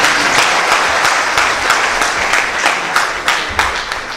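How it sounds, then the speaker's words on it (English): Loud, dense applause fills a graduation oath ceremony for medical graduands at Mbarara University, with many hands clapping steadily and close for several seconds without a break. "A hand clap for her, please."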